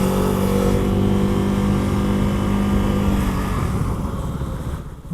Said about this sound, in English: And there's a bit of a whirring at higher speeds.